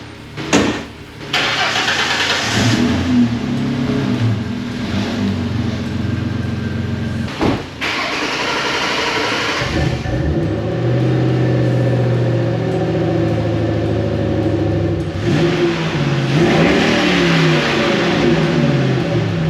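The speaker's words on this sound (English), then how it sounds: "so I'm also gonna try to start up the Mustang" A 2006 Ford Mustang engine cranks and starts, then idles and revs up and down several times, loud and close, with no one talking.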